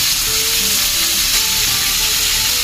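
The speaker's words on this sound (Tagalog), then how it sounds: "Yan, prito lang natin." Steady, loud sizzling and crackling of a flat fish frying in hot oil, continuous and close, with no voices.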